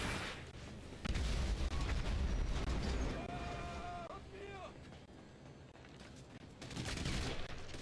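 Gunfire in a shootout in the video game GTA Online, with dense rattling bursts and heavy booms of explosions layered together, loud and chaotic, swelling and easing over time with faint voices mixed in.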